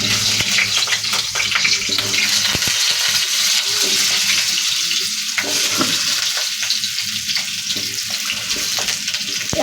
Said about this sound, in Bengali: আলুটা আগে ভেজে নিই।